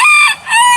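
A rooster on a homestead crows loudly and close by, one full cock-a-doodle-doo with a short dip midway before the final drawn-out note, with no voices.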